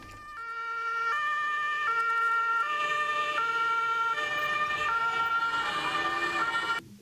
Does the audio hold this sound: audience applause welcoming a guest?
no